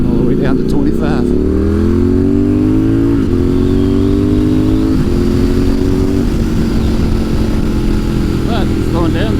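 A motorcycle accelerates hard on the winding Back of the Dragon mountain road, loud and close, its engine pitch climbing through several gear shifts in a sustained roar.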